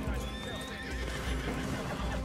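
A horse in the video game Red Dead Redemption 2 whinnies over steady hoof clip-clop, close and fairly loud inside a dense, continuous game soundscape.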